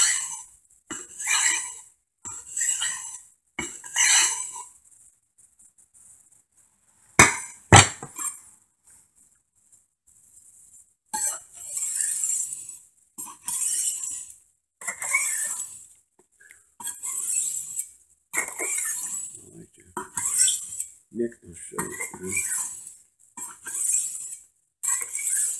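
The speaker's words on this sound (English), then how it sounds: "Step 3 is going to the finer grit of this Norton India stone." A knife blade is honed on the fine grit side of a Norton India stone, giving repeated short scraping strokes in a steady rhythm with a few pauses and sharp metallic clinks, close and moderately loud.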